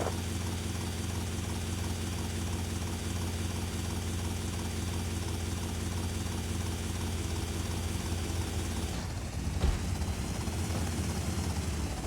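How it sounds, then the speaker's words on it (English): A helicopter in GTA Vice City drones steadily with a dense, buzzing rotor and engine hum at a constant level, holding throughout with a brief dip and thump near the end and no talking. "Helicopter."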